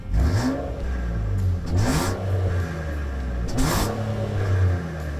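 A 2022 Nissan Pathfinder's 3.5-liter direct-injected V6 revving, with several rising and falling engine surges over a steady mid-pitched drone, heard fairly close and without any talking.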